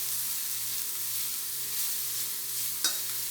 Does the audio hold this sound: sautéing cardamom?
yes